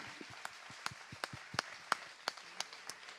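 A small conference audience claps for a newly installed president, with sparse, irregular individual claps rather than a full ovation, fairly quiet.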